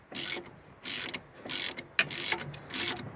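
A ratchet wrench loosens a wheel bearing bolt on an R53 MINI Cooper S, five or six bursts of rapid clicking strokes with short pauses between, close and fairly loud, with no voices.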